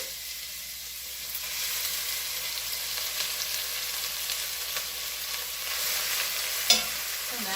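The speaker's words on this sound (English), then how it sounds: "I'm going to add my onions" Onions sizzle steadily in a pan of melted butter and olive oil for a bolognese, a continuous close frying hiss with a brief sharp clatter near the end and no talking.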